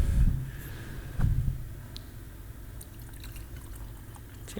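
Water poured for a person at a Zen talk, with a couple of brief splashy bursts near the start and then a soft, steady trickle through quiet room tone, close by; no talking.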